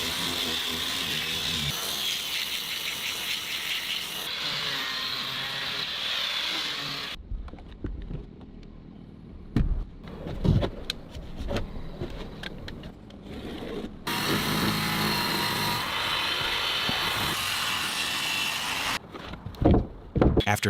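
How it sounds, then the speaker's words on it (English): A power tool sands a wooden surface smooth after cutting during hand-built wooden house construction, a loud steady grinding whir that stops midway for a stretch of scattered knocks and handling clatter before resuming. "After cutting, the surface of the wood is being sanded smooth."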